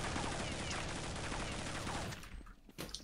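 Dense, continuous automatic gunfire from the game Counter-Strike 1.6, loud and fast for about two seconds, then breaking into a few sparse, sharp shots.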